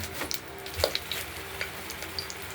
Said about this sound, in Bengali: তারপর তেজপাতা শুকনো লঙ্কা আর জিরে সাদা জিরে দিয়ে দিলাম এটা একটু ভাজা ভাজা করে নেব